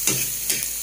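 Garlic and white onion are stirred in a frying pan, with a steady close sizzle and two quick scraping strokes across the pan in under a second.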